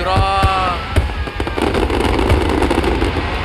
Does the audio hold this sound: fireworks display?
yes